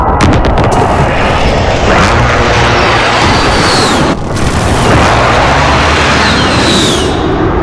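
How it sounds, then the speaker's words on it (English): Precision airstrike in Call of Duty Modern Warfare, loud continuous roaring blasts and rumble with a sharp crack partway through, dense and close throughout. "Be advised, friendly precision airstrike inbound."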